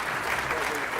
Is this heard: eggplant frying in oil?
no